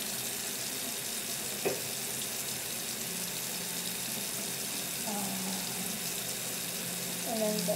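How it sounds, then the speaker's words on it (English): Warm water running from a tap, a steady, fairly close hiss and gush that holds throughout with slight splashy changes near the end, and no talking over it. "Okay, now turn the warm water on."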